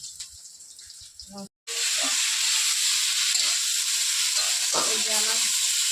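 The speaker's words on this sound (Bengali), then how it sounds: "সুন্দর মাছগুলো ভাজা হতেছে" Rohu fish frying in a pan give off a steady, close hiss of sizzling oil. After a brief clatter and a moment's pause, the sizzle runs on evenly to the end.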